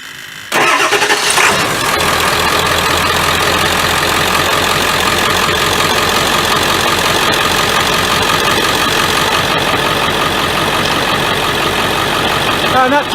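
A 7.3 diesel engine fitted with new glow plugs cranks and fires. It then settles into a loud, steady, clattering idle that continues alone to the end.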